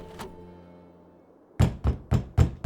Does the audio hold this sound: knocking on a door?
yes